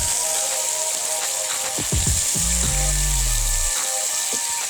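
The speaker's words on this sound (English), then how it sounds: "Going to add in a bit of water." Water poured into a hot pan of crispy pan-fried ginger-shrimp dumplings gives a close, steady hiss and sizzle that runs through the clip, with a few low gurgles partway through.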